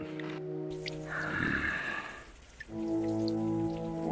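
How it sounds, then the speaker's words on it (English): Rain patters as an effect in an animated scene, a soft steady wash of drops between stretches of sustained musical tones, fairly quiet and heard alone without speech. "I think it's raining."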